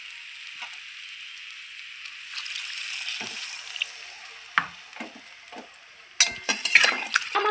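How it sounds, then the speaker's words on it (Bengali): Potatoes and pointed gourd fry in spices with a soft, steady sizzle and occasional stirring clinks, then water is poured in for a gravy, setting off a sudden loud burst of hissing and bubbling near the end. "এখন আমি গ্রেভির জন্য জল দিয়ে দেবো।"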